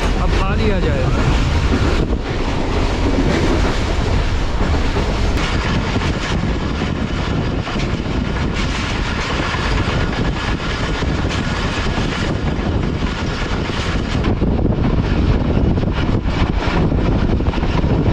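On board the Shalimar Express train in Pakistan, a loud continuous rushing rumble of the moving train with wind buffeting the microphone throughout.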